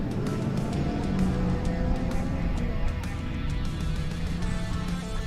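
A race car pulls away during qualifying for the 4WP Every Man Challenge, its engine a rough, steady roar at middle distance with sharp crackles and pops throughout, set against open outdoor background noise.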